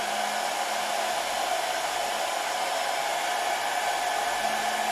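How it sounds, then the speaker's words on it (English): A hair dryer blows steadily and close, a constant rushing whir with a faint motor hum and no other sounds. "we're going to switch our hairdryer on"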